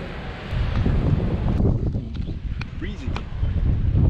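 Breezy wind buffets the microphone at a ferry terminal beside the bay, a steady low roar with gusts that runs through the whole stretch; faint speech sits underneath.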